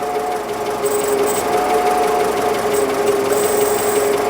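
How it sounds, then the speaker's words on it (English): A failing new car alternator gives a continuous mechanical whir with a rough, scratchy grinding texture and faint high squeals, running steadily throughout, close by. "The scraping noise. It almost sounds like a scrape."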